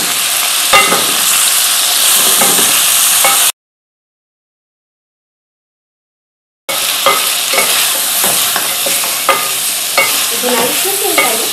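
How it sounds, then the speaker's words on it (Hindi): Pumpkin seasoned with salt, turmeric and cumin being stir-fried in a pot, with a steady sizzle and repeated scraping spatula strokes, close and loud, interrupted by a stretch of silence midway; no talking. "अब इसको थोड़ा सा भूनते हैं।"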